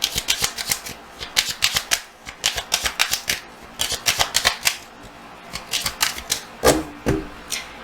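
Small angel and archangel oracle cards are shuffled by hand, giving rapid bursts of crisp flicking and snapping clicks in an uneven rhythm, close and fairly loud, with no talking.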